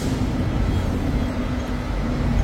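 A tram rumbles steadily past on the street in Central, Hong Kong, a close, continuous low roar with no voices over it.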